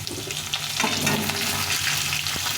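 Peeled green mangoes fry in hot oil with panch phoron, making a loud, continuous close sizzle with occasional stirring scrapes and no voices.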